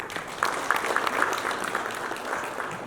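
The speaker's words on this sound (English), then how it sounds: "Let us clap for him." An audience at a tourism trade and investment forum claps steadily, a broad wash of many hands at moderate distance lasting a few seconds without talk.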